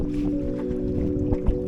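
A sailing dinghy moves across Lake Ullswater with a steady low rush of water along the hull, a constant background hum, and occasional soft splashes and knocks.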